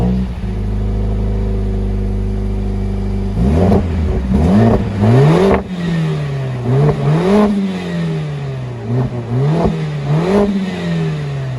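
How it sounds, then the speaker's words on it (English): A 2023 Mercedes-AMG CLA 45 S four-cylinder with a particulate-filtered exhaust settles into a loud, steady idle, then its exhaust is blipped through a series of sharp revs that climb and fall repeatedly, close by. "let's go start it up and hear how this exhaust sounds."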